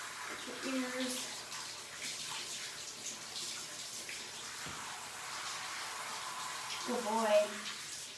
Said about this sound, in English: Rinse the top of your head, your ears.